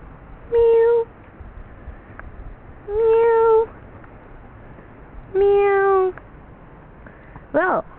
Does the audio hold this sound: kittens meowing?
yes